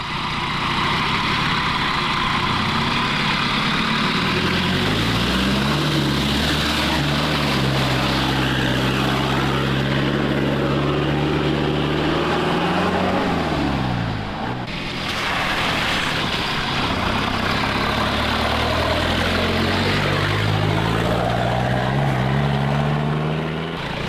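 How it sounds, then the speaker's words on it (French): A Jeep crosses a shallow stream about 30 cm deep, its engine droning and revving up and down throughout, loud and close, with splashing water mixed into the steady mechanical noise. "Alors là c'est un petit passage dans un ruisseau, il y a à peu près 30 cm d'eau, c'est assez simple"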